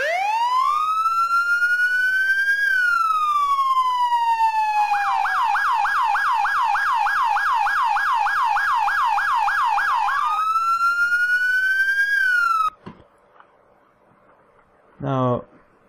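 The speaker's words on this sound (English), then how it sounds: "but you can use the police siren." A police siren fitted to an IMV infantry mobility armored vehicle with a turret in a video game wails loud and steady, sweeping up and down, then switches to a rapid yelp before returning to the wail and cutting off abruptly.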